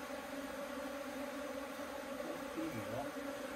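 Wild bees are being moved into a hive box during a colony transfer at Shei-Pa National Park's Xuejian area, giving a steady, close, droning hum throughout with people talking quietly nearby.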